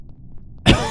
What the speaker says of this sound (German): sorry für das Husten